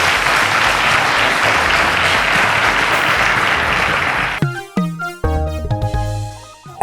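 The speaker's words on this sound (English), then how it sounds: "Ladies and gentlemen, round of applause to Ademola." A studio audience at the final of a televised mathematics quiz competition gives loud, dense applause for about four seconds, and then a short musical sting cuts in.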